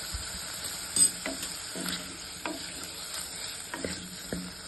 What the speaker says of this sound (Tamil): லைட்டாக ஒரு நிமிஷம் வதக்கி விட்டுக்கணும்